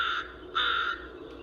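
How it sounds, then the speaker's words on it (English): A crow gives two harsh, nasal caws close by, the second louder and longer, with a faint third call trailing at the end. "crow's caw."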